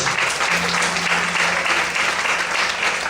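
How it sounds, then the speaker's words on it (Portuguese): Congregation applauding during a church service, continuous close clapping from a crowd, loud and even throughout with a faint voice murmuring underneath. "Aplaude e glorifica a Deus."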